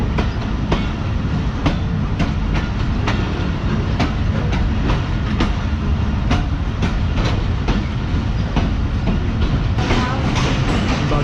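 The Pakistan Express rolls steadily through a station platform, with a loud continuous rumble and regular clickety-clack of wheels over rail joints throughout, close and unbroken.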